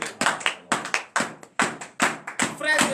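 Church congregation at a morning prayer service clapping in acclamation, sharp irregular hand claps and taps in quick bursts, fairly close and loud, with voices mixed in.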